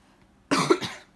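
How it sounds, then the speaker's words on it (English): A single short, harsh cough bursts out close by after a moment of quiet, trailing off quickly. "Sorry, still got a bit of the cough."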